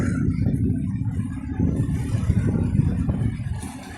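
A new YTO NLX 1054 tractor moves slowly past, its diesel engine giving a steady low rumble with a slight clatter, close and continuous throughout.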